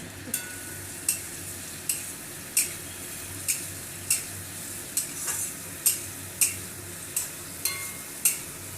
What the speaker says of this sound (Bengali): আমি মশলাটাকে দিয়ে ভালো করে কষাচ্ছি। এখন দিয়ে দিচ্ছি 4 পিস লঙ্কা কুচি।